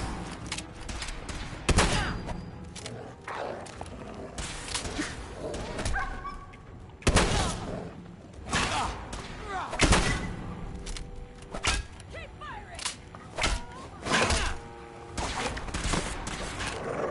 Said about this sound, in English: Thanks for shooting your friend.